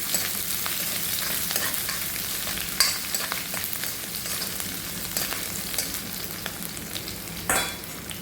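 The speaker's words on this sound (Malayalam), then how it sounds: "ഇച്ചിരി ഇഞ്ചിയും വെളുത്തുള്ളിയും കൂടെ അരിഞ്ഞിട്ട് കൊടുക്കുന്നുണ്ട് നമ്മൾ ഇളക്കി കൊടുക്കുന്നു" Chopped ginger and garlic fry in a pan for a beef curry, a continuous close sizzle broken by occasional spoon scrapes and clinks as they are stirred.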